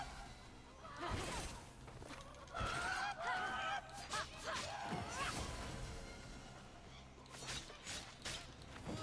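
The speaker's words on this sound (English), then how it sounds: "Oh no, it's a rooster." A rooster in the video game Immortals Fenyx Rising, loud squawking, honking calls in several bursts over game ambience and whooshing effects.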